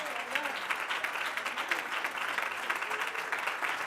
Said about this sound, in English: you're going to have to quit with your applause for a minute